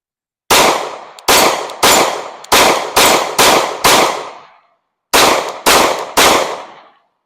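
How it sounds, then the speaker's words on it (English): Nine loud, sharp Glock 26 pistol shots ring out close by, each with a quick decaying echo. Six come in a fairly even string, then after a pause three more follow. "So let's go ahead and shoot the Glock 26 first."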